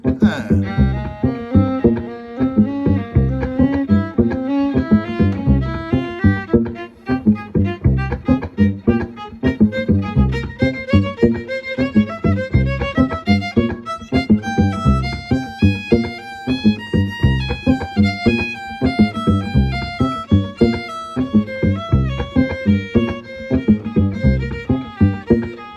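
A jazz violin plays a tune in a doubled-up rhythm, with busy, continuous, rhythmic bowed notes near and steady throughout, over a dense accompaniment.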